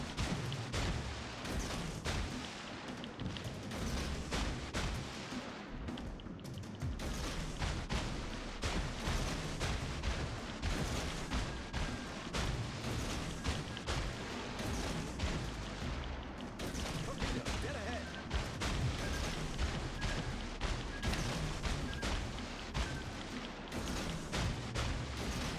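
A destroyer blowing up in the naval combat game World of Warships Legends, heard amid a long, loud stretch of gunfire and booming explosions that continue throughout, with sharp blasts layered over a rumbling battle backdrop.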